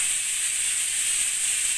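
A pressure cooker hisses steam in a steady, unbroken rush, close and fairly loud, with no pauses or voices.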